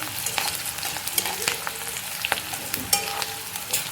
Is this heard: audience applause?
no